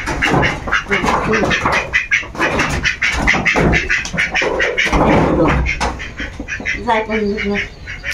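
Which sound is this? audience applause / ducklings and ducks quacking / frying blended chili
ducklings and ducks quacking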